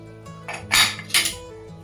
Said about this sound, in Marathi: आता हा कुकर आपल्याला थंड होऊ द्यायचा आहे आणि मग झाकण काढायचं आहे.